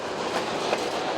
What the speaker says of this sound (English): This is one of the better trains we've ridden.